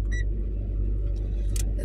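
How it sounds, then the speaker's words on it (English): A car engine idling in the cold while it warms up to defrost, a low steady rumble heard close up, with a brief faint jingle near the start. "gotta let the car heat up and defrost"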